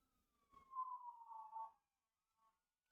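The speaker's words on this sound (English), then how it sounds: "hopefully you guys can't hear the ambulance sirens outside" Ambulance siren outdoors, a single faint wailing sweep carried from a distance for about a second and a half, then fading into quiet.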